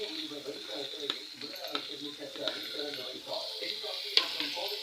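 Onion hits hot oil already holding mustard seeds and crushed garlic, with a steady close sizzle and light stirring clatter, and faint voice-like sounds in the background.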